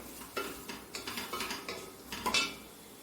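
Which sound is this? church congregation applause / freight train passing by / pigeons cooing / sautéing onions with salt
sautéing onions with salt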